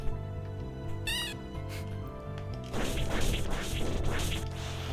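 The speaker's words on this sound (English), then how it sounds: "More identifiable cat noises than the actual cats in the village" Cat-like creature noises in a platforming video game: a short rising meow-like chirp, then a burst of crashing, whipping effects over a constant game music bed.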